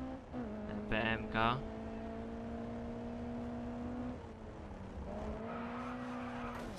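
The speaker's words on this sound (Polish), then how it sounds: "Piękny odgłos idzie z tego wydechu." A race car exhaust in the Grid Autosport video game drones steadily at a held pitch through most of the stretch, dipping briefly and then rising again, with a short burst of talk early on.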